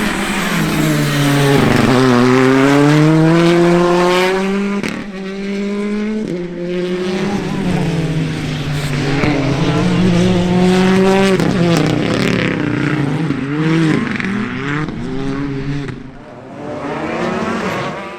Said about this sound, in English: Josh Moffat blasts off the line in the combi left Hyundai